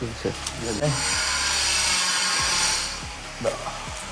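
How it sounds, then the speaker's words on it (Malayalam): A power drill boring into wood gives a close, steady high whine that dips briefly near the middle, with a voice heard faintly alongside. "ഇവിടെ നമ്മൾ തുരന്ന് അതിൻ്റെ ഉള്ളിലോട്ട് ടൈറ്റാക്കണം"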